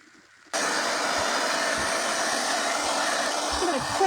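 A hair dryer switches on abruptly after a quiet moment and blows a loud, steady close-up whoosh to dry a painted stencil craft piece for holiday home decor, with faint handling knocks near the end.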